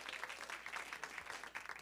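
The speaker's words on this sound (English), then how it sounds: "y'all please give another round of applause to Jocelyn?" A church congregation applauds, a quiet, dense patter of many hands clapping at a distance with no voices over it.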